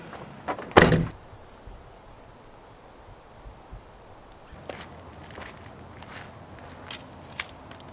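A camper van door slams once, sharp and close, then quieter thuds, rattles and footsteps follow in a small interior.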